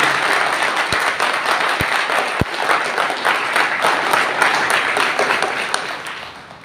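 A church congregation at a Thanksgiving service breaks into loud, sustained applause, dense clapping filling the room steadily from start to finish, with a few sharp low thumps near the front.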